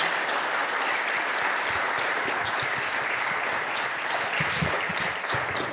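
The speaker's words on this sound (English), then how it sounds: "let's all give a round of applause for all of these" An audience at a mayor and city council candidate forum claps for the candidates, with steady, dense applause throughout and no talking over it.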